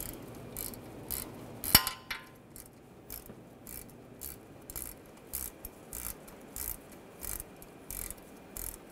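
A ratchet with a 5 mm hex socket backs out a screw near the front wheel of a 2007-2013 BMW 328i, giving steady, evenly spaced bursts of close, crisp clicking throughout, with no talking.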